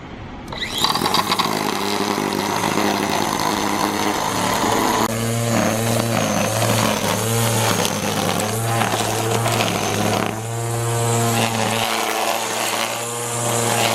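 Black & Decker electric string trimmer running as its speed is adjusted from level 1 to 6, a loud close motor whine with a buzzing whir that shifts pitch in steps, no voices.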